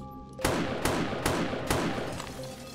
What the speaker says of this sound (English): they're blowing up with a gunshot